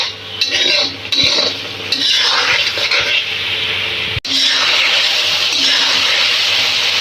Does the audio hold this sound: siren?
no